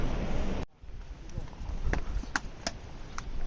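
Horses on the mountain trail of the Amarnath Yatra pilgrimage route, heading in from Baltal, give a few sharp hoof clops at mid distance, spread unevenly through steady wind and outdoor noise while people talk.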